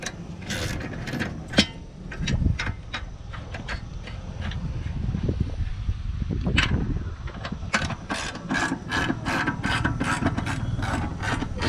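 Repeated ratcheting clicks and metallic mechanism sounds come from tightening a wheel onto a No-Mar tire changer's posi clamp by hand, in uneven bursts of close, crisp pawl clicks throughout.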